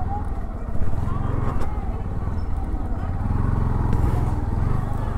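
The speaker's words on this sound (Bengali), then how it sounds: "বাইকটা এখানে রাখবো" A motorcycle engine idles with a steady low rumble close by as it is parked near a Kali temple during the Bolla Kali Puja, with faint background noise throughout.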